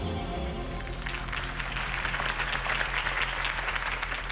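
Crowd applause at a Harvey Dent campaign rally in Batman: The Telltale Series: clapping swells in after a low musical drone and holds as a dense, even patter, with a soft background hum underneath.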